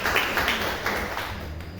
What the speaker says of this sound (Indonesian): Tepuk tangan buat Pak Edi